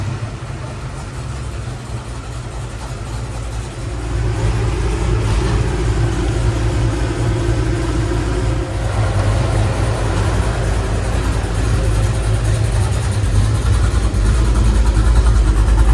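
A car engine runs steadily during a test drive, a constant low hum that grows fuller and louder partway through as the car moves off and accelerates, then holds at a cruising drone with no talk.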